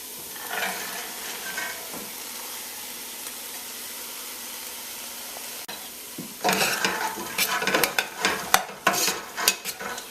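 Pre-cooked salted pigtail and black eyed peas go into a pot, a quiet simmering hiss at first, then a louder stretch of clattering, sloshing and spoon scrapes against the pot.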